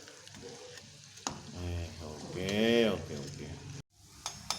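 Banana frying in oil in a pan, a continuous crackling sizzle heard close, with a voice talking over it for most of the stretch.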